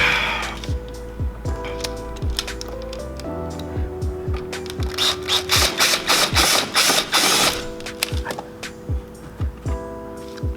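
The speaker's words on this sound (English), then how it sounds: "so now I took the screws off of both sides of the side skirt" Hand-tool ratcheting and clicking while screws are taken out of a car's aftermarket side skirts with the wheel removed, a repeated series of quick mechanical clicks and taps, busiest in the middle, without talking.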